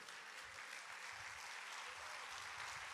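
An audience at a Christian talk applauds steadily, a dense even wash of clapping that holds at one level for the whole stretch with no voices over it.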